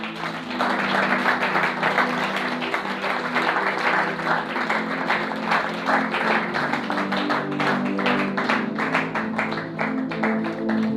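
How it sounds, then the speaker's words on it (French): A church congregation applauding for the Lord during a service, with dense, sustained clapping that carries on steadily and fairly loud throughout. "Est-ce qu'on peut acclamer pour le Seigneur?"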